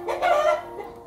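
A single rooster crows nearby, its strong call swelling and then fading within about a second, clear and unaccompanied by speech.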